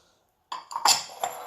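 A spoon clinks against a bowl in a few quick taps while yogurt marinade with salt and chili flakes is stirred for tawa chicken, close and fairly quiet.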